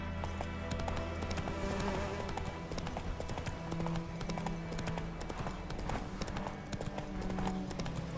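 Hooves of the horse Roach clip-clop steadily at a gallop in The Witcher 3, a continuous rhythmic pounding over a game soundtrack with a faint insect-like buzz.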